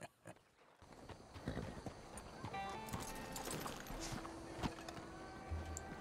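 Steady clip-clop of horse hooves with an occasional whinny in Red Dead Redemption, set over a busy game background of tones and ambient noise.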